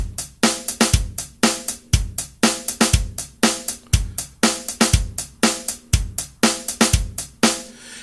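A rock drum beat loops evenly, with a punchy bass drum and crisp snare hits plus an added snare accent note on the 8th step, repeating about once a second, loud and alone.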